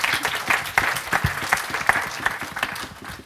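An audience applauding at a signing ceremony on smart EV charging, a moderate, steady burst of clapping from a modest crowd in an indoor room, with no talking over it.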